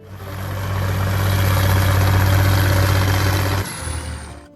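Allis Chalmers 7060 farm tractor engine running with a steady, heavy low drone that rises and holds, then drops off sharply near the end, with no talking.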